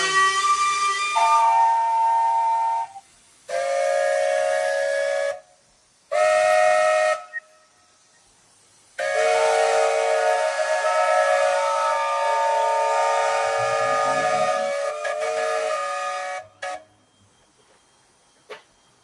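A steam engine whistle sounds four loud, shrill blasts: three short toots followed by a long sustained blow, with brief silences between them.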